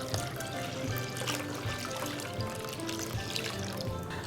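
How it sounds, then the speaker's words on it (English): Water is poured into a thick gram flour and yogurt batter while it is whisked, giving a steady trickling, sloshing wash with soft stirring ticks. The sound is close and continuous, with no talking. "So as you whisk, you'll come to know I need to add more water to this."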